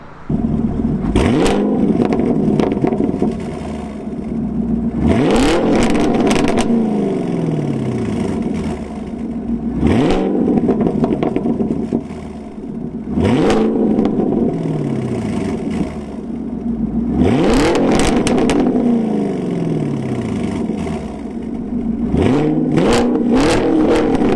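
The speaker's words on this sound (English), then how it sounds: "the pops in here are really good, and that did get amplified with the Borla exhaust" A Chevrolet Camaro SS with a Borla S-Type exhaust revs hard again and again, each acceleration rising in pitch before dropping off, the exhaust rumbling loudly and close throughout.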